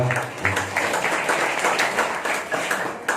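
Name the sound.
audience applause for the speakers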